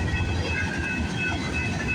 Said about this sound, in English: This train's meeting 132 at somewhere on the Hamilton sub.